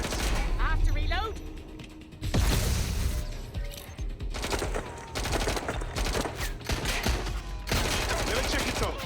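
Dense rapid gunfire from the video game Watch Dogs Legion, sustained automatic bursts and crashing impacts that run nearly continuously with short breaks, loud and close, with a voice speaking now and then underneath.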